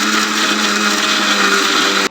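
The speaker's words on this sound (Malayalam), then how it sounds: "അത് മിക്സിയിൽ അടിക്കുക." A kitchen mixer grinder whirs loudly and steadily as it blends heated ingredients into a paste, a constant high-pitched motor drone with no voices, cutting off abruptly at the end.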